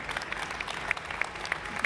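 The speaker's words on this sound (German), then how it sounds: "Ein Applaus für die 4 coolen Frauen" Audience applause at a live stage event, a brief, fairly faint patter of clapping with scattered sharper claps.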